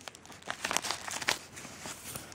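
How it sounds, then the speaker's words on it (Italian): Crinkly wrapping on a small gift package rustles and crackles in short, close bursts as it is handled and opened, with uneven crumpling through a brief stretch and no talking. "Poi c'è questo pacchettino che devo proprio aprire con le forbici."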